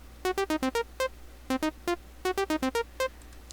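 Reason 4's Matrix pattern sequencer plays an altered pattern through a synth: a clear, irregular run of short staccato notes jumping between pitches in three bursts, with no talk.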